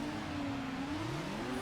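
Game car engine from Need For Speed Underground whining at a high, steady pitch near the redline, harmonics wavering and sliding as the revs hang. The engine is heard alone throughout, with no talk.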